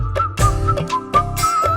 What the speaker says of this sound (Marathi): फन्ना मधील ही शिट्टी,